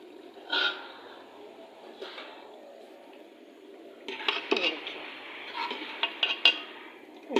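A metal spoon clinks and scrapes against a pan as round gourds (tinda) are stirred into spices, with a few sharp knocks and a burst of rattling clatter later on, all fairly close and quiet.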